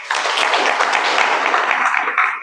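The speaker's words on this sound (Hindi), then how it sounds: "एक बार ताली बजाओ अच्छी तरह।" A class audience claps hands together in a dense, even burst of applause lasting a couple of seconds, close and fairly loud, then tapering off.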